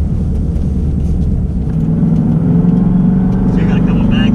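A twin turbo S550 Mustang driving on wastegate spring pressure, loud close engine rumble that builds into a rising rev toward the end, with voices talking over it.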